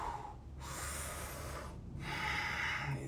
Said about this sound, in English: deep exhale through the nose